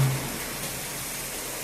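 Heavy thunderstorm rain in Kharkiv's Saltivka district pours in a dense, steady hiss with no breaks, filling the whole scene at a moderate level.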